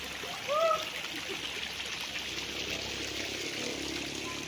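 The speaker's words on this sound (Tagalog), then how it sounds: "Bukal po yan. Diretso pa sa swimming pool yan." Spring water pours steadily into a resort swimming pool, a continuous rushing and splashing flow heard at close range, with a brief louder splash early on and faint voices in the background.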